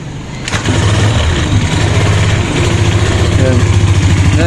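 A Skydrive 125 motorcycle engine fires up and keeps running with no battery installed, settling into a steady, close, rumbling idle.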